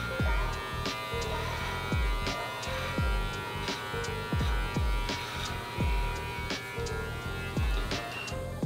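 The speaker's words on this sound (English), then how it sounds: "I angle the beard trimmer up a little bit like that, so I get the rounded edge underneath" An electric beard trimmer buzzes close up while trimming a beard, a steady loud buzz broken by repeated rhythmic strokes about every half second.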